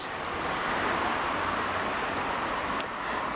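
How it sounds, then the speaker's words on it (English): Steady road traffic rumbles in the distance, a constant broadband wash behind a quiet woodland nature walk, with no talk. "you can hear the road in the background"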